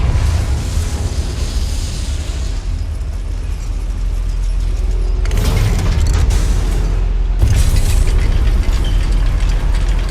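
Confringo fire-spell blasts from the Hogwarts Legacy video game, cast inside a goblin mine beside a lift: two loud broadband bursts break through a steady, close mechanical rumble.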